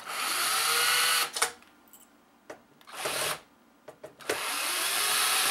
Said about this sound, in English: So by unscrewing these screws, the top comes off.